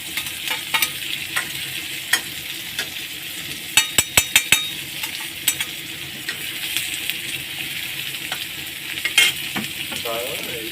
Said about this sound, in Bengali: এইবার এগুলোকে আস্তে করে ভেজে নেব সব সব কিছু একবারে ভেজে নেব